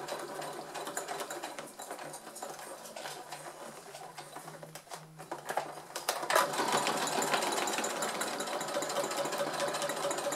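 A sewing machine runs steadily while stitching back over an earlier seam through thick fabric layers for a vanity bag. The motor whirs continuously and grows louder and denser partway through, with no talking.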